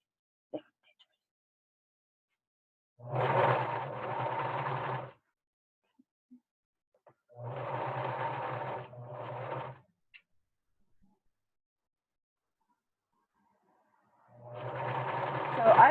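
A sewing machine stitches a fitted fabric face mask, with three separate bursts of steady mechanical whirring a few seconds each, close and moderately loud, divided by quiet pauses.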